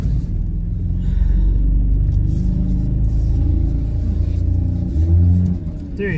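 A car engine revs while idling rough, a loud, close low rumble that swells and sags unevenly, with a brief push of throttle near the end.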